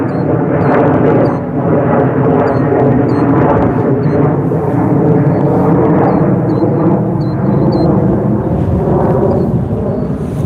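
Southwest Airlines airliner passing low overhead, a loud, broad continuous roar that swells and holds steady for about ten seconds, with faint chirps above it.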